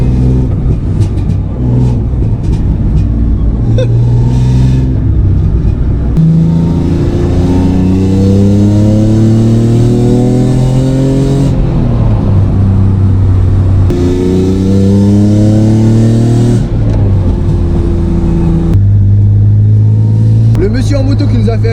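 A BMW E36 accelerating hard, its engine climbing through repeated rising revs with gear changes in between, loud and close as if heard from inside the car.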